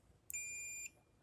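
A single steady electronic beep of about half a second from a voltmeter's continuity buzzer while testing an ATV quad trigger, clear and close against a quiet background.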